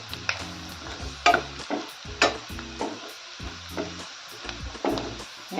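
Radish pods with chili powder and turmeric are stirred in a pan, a spoon scraping and tapping against the metal in irregular strokes over a light sizzle, heard up close.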